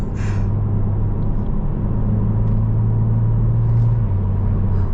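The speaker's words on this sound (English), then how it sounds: "It's B58, man. It's one of the greatest engines of all time." A 2022 BMW Z4 M40i convertible with the B58 engine drones at a steady low pitch while driving. Road rumble fills the background, with no voices.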